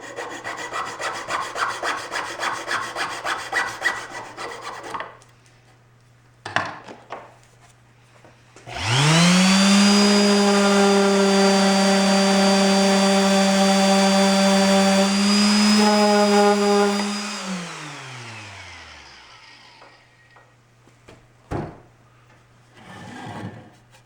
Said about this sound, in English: Now we just cut the excess plugs off, and then I'll sand these smooth.